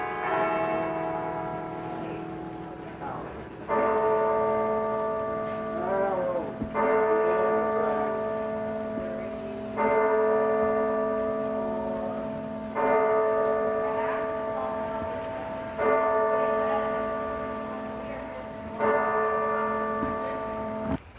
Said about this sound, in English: It's chiming 11 o'clock.